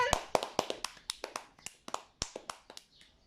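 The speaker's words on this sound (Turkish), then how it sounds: "Alkışlayın" Children playing an obstacle-course game in a park clap their hands in a quick, uneven run of about fifteen crisp, close slaps, with no talking over them.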